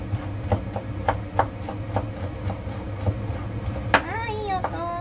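A knife chops ginger crisply on a cutting board in a quick, regular rhythm, close up, ending with a brief squeaky scrape.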